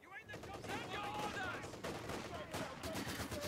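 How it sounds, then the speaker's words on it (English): MG-34 machine gun bursts rattle across a Company of Heroes 2 battlefield, rapid gunfire layered with other shots and game noise, fairly faint overall. "The MG-34 from the Luftwaffe ground forces is pinning this infantry section"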